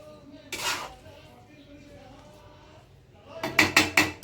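Street-style veg noodles tossed in a metal pan with tongs: a sharp metallic clatter early, a quieter stretch, then a quick run of four loud clanks close by.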